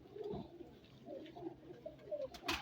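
Wild pigeons coo softly and repeatedly, a low murmuring call close by, rising slightly in loudness toward the end over a quiet background.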